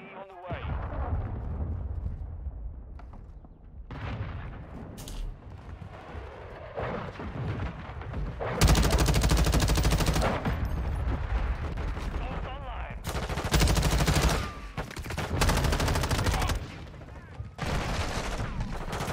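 Bursts of LMG gunfire in Call of Duty: Modern Warfare II, long sustained volleys alternating with shorter strings of shots, loud and dense against a constant battle din with occasional game voice callouts.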